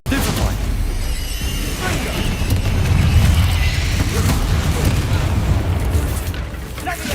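A Confringo blasting spell in Hogwarts Legacy, heard as a dense, continuous rumble of explosive booms and bursts throughout combat, with a voice speaking over the noise.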